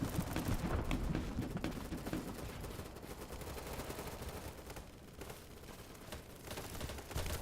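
Gunfire in the video game BattleBit, with dense rapid bursts and overlapping automatic fire that is loud and heavy at first and then continues as a sustained, somewhat more distant rattle.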